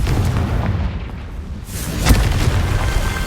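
A Confringo fire spell explodes in Hogwarts Legacy with a deep, heavy boom and rumbling roar, then a sharp burst near the middle before the low rumble carries on.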